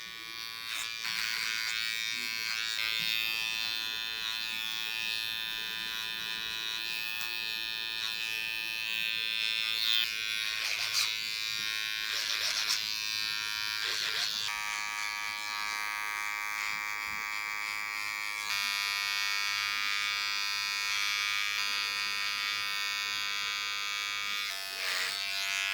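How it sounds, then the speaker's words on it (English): Electric hair trimmer buzzing steadily over a comb while squaring off and tapering a long-overdue haircut, a continuous close whine with small shifts in pitch as it cuts, no talking. "working on the trimmers now to sharpen this off and start to build up that squarer finish as well"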